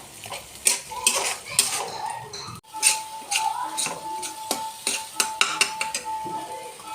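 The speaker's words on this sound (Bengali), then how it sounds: "পটল বাটাটা এবার তেলের মধ্যে নাড়িয়ে নাড়িয়ে শুকনো করে তুলব।" Mashed pointed gourd being stirred in oil in a metal pan, with repeated close scraping and clinking of a utensil against the pan in an uneven rhythm and a faint sizzle underneath.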